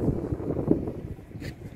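Gusty wind buffets the microphone outdoors in rainy weather, a low rumbling roar that rises and falls unevenly.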